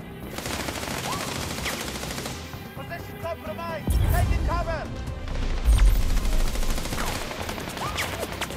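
Gunfire in the video game Sniper Ghost Warrior Contracts 2: several sharp shots and bursts crack out over a steady background, with a heavier blast near the middle, while someone talks at times.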